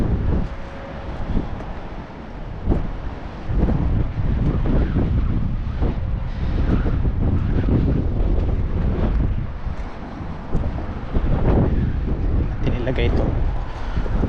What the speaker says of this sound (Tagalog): Malakas po ang hangin ngayon.